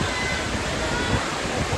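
Waterfall at the Villa Escudero resort, a continuous dense rush of falling water, loud and close, lasting under two seconds with no talk.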